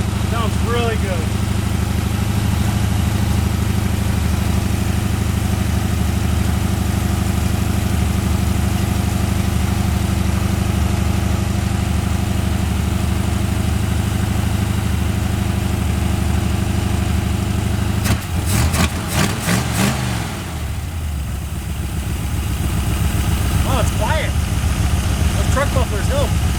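A 1981 Ford Mustang 5.0 V8 with truck mufflers and no cooling fan idles steadily and close, a continuous low rumble with a brief burst of clatter partway through and talk over it.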